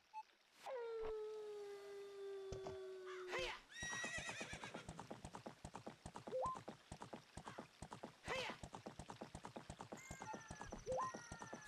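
Epona whinnies in The Legend of Zelda: Ocarina of Time, with a long neigh followed by rapid rhythmic clip-clop hoofbeats of galloping and further shorter whinnies over the game audio.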